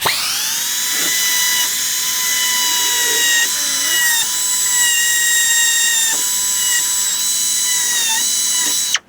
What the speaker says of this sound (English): I went and got this rotary tool, air-powered rotary tool with a carbide burr in it